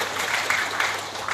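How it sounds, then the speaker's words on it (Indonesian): Crowd applause at a scout council inauguration ceremony in an indoor hall, a steady broadband wash of clapping with no talk over it. "Kita tepuk tangan dulu"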